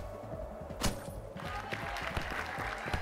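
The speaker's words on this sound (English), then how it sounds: "Why are they clapping?" Quiet burst of video game applause from the game Demon Turf, clapping with scattered thumps, a sharp transient near the start, fairly faint and continuous.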